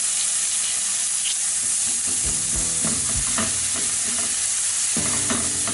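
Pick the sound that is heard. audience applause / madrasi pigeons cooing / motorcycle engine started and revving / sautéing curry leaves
sautéing curry leaves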